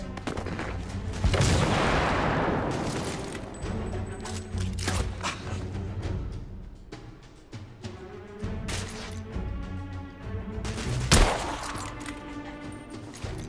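Grenade blast and heavy gunfire in the Victorian London shooter The Order: 1886, a loud burst of explosion followed by sustained rapid shots and cracks, with another sharp blast near the end.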